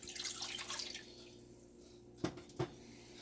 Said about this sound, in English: I'm gonna dump it into a small saucepan.